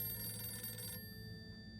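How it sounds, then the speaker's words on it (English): A red telephone ringing in the video game Harold Halibut, a faint electronic bell tone that sounds for about a second and then cuts off, leaving a quiet humming background with no talking. "It's the red phone."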